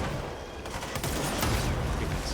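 Sniper rifle fire in the video game Control comes as a burst of sharp cracks and clattering shots over a dense, noisy game soundscape, with no talk.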